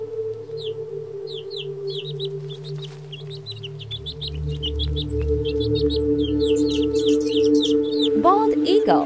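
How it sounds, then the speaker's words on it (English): A common nightingale sings in rapid, high, repeated chirps and short trills, moderately loud, over a continuous low hum, with a sharper burst of calls near the end. "Common nightingale."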